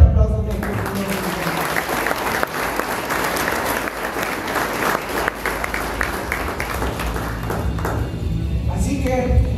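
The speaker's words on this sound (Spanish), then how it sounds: "Démosle un fuerte aplauso a nuestro Señor." A church congregation at a wedding gives a loud, sustained round of applause that fills most of the clip and then fades as a voice returns near the end.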